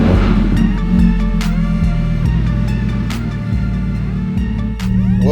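A supercharged Audi R8 pulls away with a loud, close engine note that climbs and shifts repeatedly as it accelerates, rising and dropping through several gear changes, with no talking.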